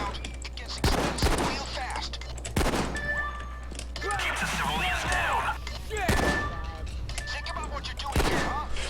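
Bursts of gunfire from the video game Payday 2 break out repeatedly over steady game ambience, with someone talking over the shooting throughout.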